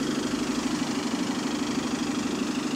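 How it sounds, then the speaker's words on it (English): A bus engine idles close by while the vehicle is stopped in the middle of a road, a steady mid-pitched hum that continues unchanged throughout. "If the engine's running fine"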